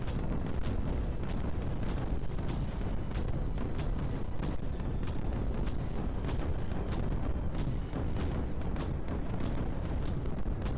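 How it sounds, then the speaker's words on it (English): Repeated explosions from the video game Creeper World 4 burst in a rapid, regular series of sharp booms, a dense, continuous barrage at moderate level with no talk. "God, those explosion sounds."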